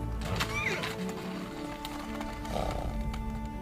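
Yakutian horses in snow in freezing Siberia, whinnying and neighing with shuffling hoof sounds, moderately close and continuous over a low rumbling background.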